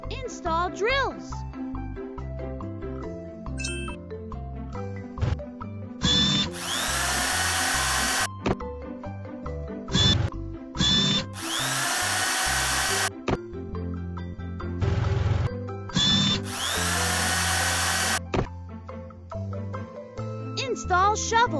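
Toy power drill on a model excavator whirring in three loud bursts of a couple of seconds each, alternating with plastic clicks and rattles and spoken instructions in between.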